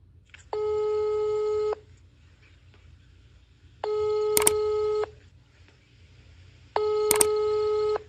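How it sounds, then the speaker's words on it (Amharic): A telephone line tone after dialing out sounds in three long, evenly spaced beeps with quiet pauses between them, heard alone with no talking. "ለማንኛውም ለተፈሪ ልደውልለት።"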